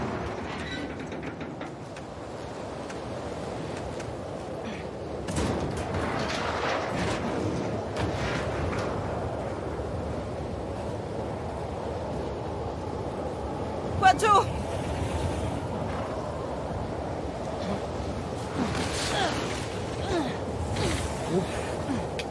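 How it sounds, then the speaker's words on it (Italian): Strong wind blows in The Last of Us Part II, a continuous roaring gust with a brief sharp creak partway through, while characters talk over it. "C'è molto vento."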